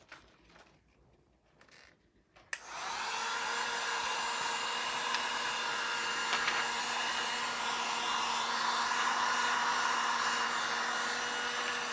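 A heat gun switches on sharply after a short quiet stretch of faint handling noise, then blows a loud, steady, whining rush of hot air over a DTF transfer design coated in powder, with no voices.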